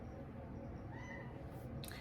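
A house cat gives a short, quiet meow late in the clip, rising briefly above a low indoor background hum.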